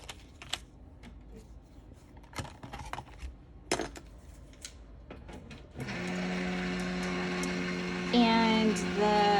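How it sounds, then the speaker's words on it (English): An electric die cutting machine starts up partway through and runs steadily, cutting a shadow layer out of vellum, a close mechanical whir with a rising whine near the end, preceded by quiet tapping and handling sounds. "since we have the die cutting machine out, let's go ahead and cut our hello"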